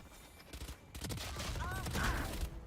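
An Odin machine gun firing in the Valorant video game, a fairly faint, sustained stream of rapid shots that builds after a quieter start, with a voice briefly audible in the mix.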